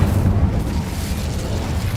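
Incendio fire spell blast from Hogwarts Legacy, cast inside an old merpeople artifact chamber: a dense, sustained roaring whoosh with heavy low rumble that holds steady and loud for two seconds, with no voices.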